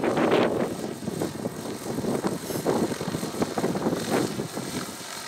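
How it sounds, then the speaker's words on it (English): A Procyon 800E unmanned helicopter hovers while carrying a suspended load in windy conditions, its rotors giving a steady, fairly loud whirring drone with a pulsing beat and no talking. "So you can see the helicopter is holding the load just fine"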